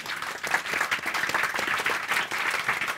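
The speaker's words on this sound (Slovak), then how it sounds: "si to zaslúži jeden veľký potlesk" An audience applauds at a live Slovak show, sustained and dense clapping that fills the room with no talk on top.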